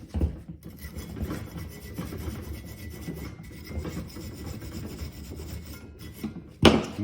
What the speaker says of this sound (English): use a wire brush on there and clean out any of the old crust and crud